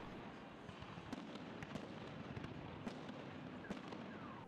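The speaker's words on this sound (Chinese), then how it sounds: "晚上还会有盛大的烟火表演。" A nighttime fireworks display at a festive celebration in Tula, Russia, heard from a distance as a faint rumbling wash broken by scattered sharp pops and cracks.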